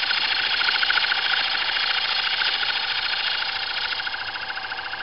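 Wood lathe turning and milling tobacco pipe wood, a steady high-pitched whirring and grinding buzz with a fast rhythmic chatter, loud and close, easing slightly toward the end.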